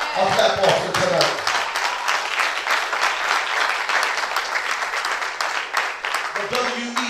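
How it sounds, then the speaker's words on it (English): A church congregation claps together during an evening service in a loud, sustained burst that fills the room, with some voices audible at the start and end. "Can you give the Lord a clap offering tonight?"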